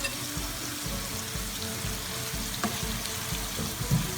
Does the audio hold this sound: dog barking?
no